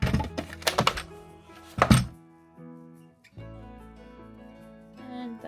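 A small die-cutting and embossing machine processes cardstock, with a cluster of sharp close thunks and clacks followed by a few softer knocks, then a steady low mechanical whir or hum that trails off.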